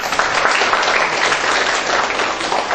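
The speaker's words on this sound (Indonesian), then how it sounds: "Kita berikan aplaus" An audience at the final of a constitutional debate competition gives a short, dense burst of clapping that stays loud and even for about three seconds.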